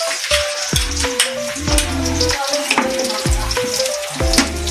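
Onion sautéing in a pot for Filipino beef nilaga, a loud close sizzle with repeated clanks of a spoon stirring against the pot, no talking.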